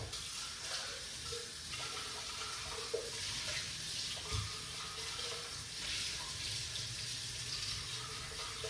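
Homemade pineapple and beetroot juice pours and drains in a steady, continuous watery rush that stays fairly even throughout, with no talking over it.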